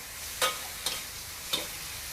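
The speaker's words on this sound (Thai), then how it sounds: "ผัดให้หมึกสุกหมึกตึง ใช้ได้แล้วค่ะ" Squid stir-fries in a wok under a soft, steady sizzle, with three sharp scrapes of a spatula spaced across a couple of seconds.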